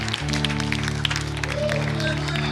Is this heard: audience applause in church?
yes